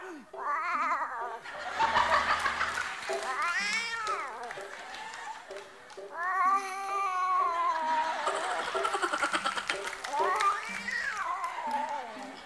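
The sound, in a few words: man imitating cat meowing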